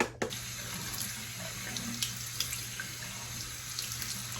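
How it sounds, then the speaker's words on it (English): Tap water runs steadily into a sink for rinsing a nose piercing, a continuous close splashing stream with a brief thump at the start and small spatters throughout. "So I'm about to rinse it with water."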